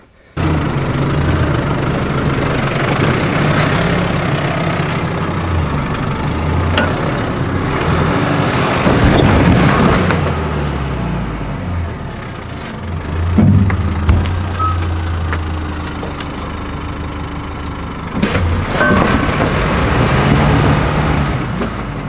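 An off-road vehicle idles and creeps along a creek trail at dusk, its engine a steady mid-pitched rumble with a few louder surges and clunks over rough ground, close and continuous with no talk.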